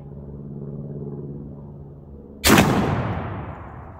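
A 12 gauge shotgun fires a single Browning BXS sabot slug at a 25-yard target at an outdoor range: one sharp, loud blast with a lingering rumbling tail, after a low steady hum.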